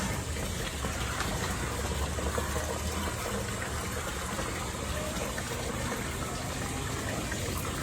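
A steady rush of faucet water pours continuously into a container, filling it to 10 liters for a hydroponics setup, even and unbroken, with no talking.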